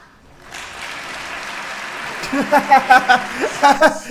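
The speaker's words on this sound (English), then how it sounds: "I just feel like they're clapping after every word, every sentence he says." Scattered applause in a hall during a political speech on balancing the budget, starting faintly and building into a broad wash of clapping, with overlapping voices and brief chuckling on top.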